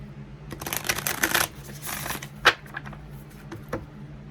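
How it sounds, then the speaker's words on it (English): Tarot cards riffled and shuffled in several quick bursts, close and crisp, with a sharp tap partway through and no talking. "One more shuffle."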